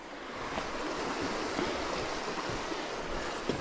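Fast, high-running stream water rushing past an old mill gate on a mountain bike trail, a steady broadband roar holding even and fairly loud throughout with no voices.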